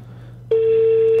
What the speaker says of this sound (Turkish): Telefonu açar mısın Ezgi?